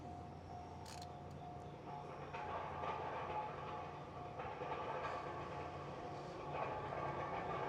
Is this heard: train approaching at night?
yes